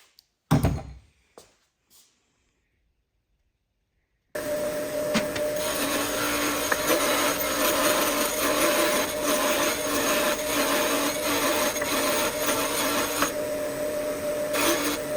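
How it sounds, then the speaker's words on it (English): After a few sharp clunks and a pause, an angle grinder with a roll lock disc spins up and runs steadily and loudly, a high whine over a harsh abrasive rasp, cleaning a seized 6.0 Powerstroke turbo. "So I just use a roll lock disc on a grinder like so, and we'll get that cleaned up."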